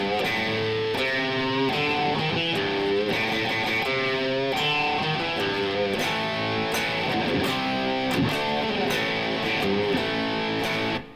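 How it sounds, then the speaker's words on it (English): An electric guitar with a single-coil pickup plays an 80s rock riff: a quick, choppy run of notes and chords, fairly clean, continuous and up close, ending abruptly. "that's better if you have a single coil sound like this."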